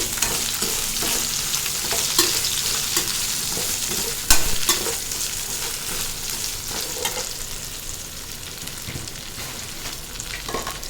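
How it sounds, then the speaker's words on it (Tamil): Okra with salt sautéing in a pan, a loud, steady frying sizzle under brisk stirring scrapes and one sharper clatter, close and without speech. "தேவையான அளவு உப்பு போட்டு வெண்டைக்காயும் அதோட சேர்த்து நல்லா வதக்கிடணும்"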